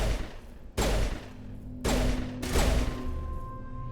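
Heavy pistol shots in Mass Effect Legendary Edition, with three loud booming blasts spaced about a second apart, each trailing into a ringing decay over low game ambience and a faint hum.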